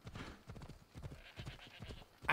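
Horse hooves clip-clopping in Assassin's Creed Odyssey, a steady trotting rhythm of close, distinct hoof falls with a brief louder sound at the end.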